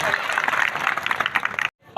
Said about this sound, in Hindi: सभी सभाजन एक बार कर्मनिष्ठा और ईमानदारी से जोरदार ताली से सम्मान करेंगे